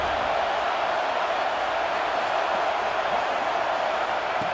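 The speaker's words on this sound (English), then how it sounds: "this home crowd is fired up and ready to make a difference today" A home crowd roars at a USC vs Notre Dame college football game. The dense, steady wall of cheering noise holds at an even level throughout, with no distinct voices standing out.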